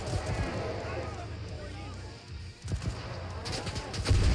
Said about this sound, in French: Belle explosion.